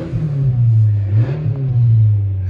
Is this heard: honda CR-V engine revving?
yes